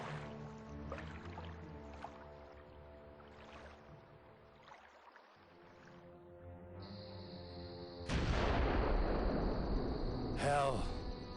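Cannon fire from the video game Agatha Christie: Evil Under the Sun: a loud, rough blast erupts late in the clip after quieter stretches of tonal hum and watery ambience, followed by a brief rising whine.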